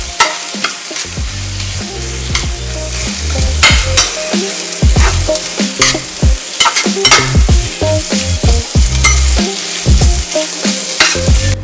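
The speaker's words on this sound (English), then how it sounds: "stir the egg around the vegetables" Egg stirred around vegetables in a hot frying pan for nasi tumpeng, a steady close sizzle with repeated scraping and clinking strokes of the utensil, no voices.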